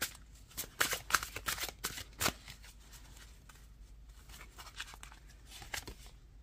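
Tarot cards being shuffled and drawn from a deck: quiet, close papery riffles and flicks in quick irregular bursts, busiest early on, then softer scattered card slides.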